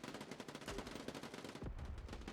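Rapid bursts of gunfire from a video game gunfight, fast repeated shots in close succession that stop briefly near the end, fairly quiet overall.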